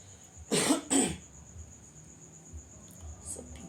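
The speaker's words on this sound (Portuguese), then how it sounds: "Essa pigarra." A man clears his throat in two rough, forceful bursts, close and loud against a quiet room with a faint steady insect-like whine in the background.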